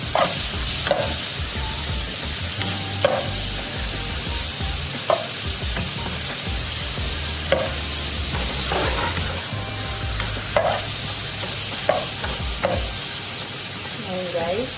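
Pork for adobo sizzling and frying in a pan, a steady hiss with intermittent stirring scrapes and clinks, close and continuous throughout, no voices.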